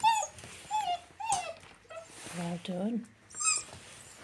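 Young puppies whimper and yip in short, high squeaky bursts close by, with a person speaking to them softly in between.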